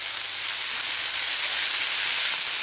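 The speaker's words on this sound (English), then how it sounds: "We're going to brown a pound of beef with a finely chopped white onion, 4 garlic cloves." A pound of ground beef browning in a pan with a finely chopped white onion and four minced garlic cloves, giving a steady, even hiss of sizzling that holds close and constant without any talking.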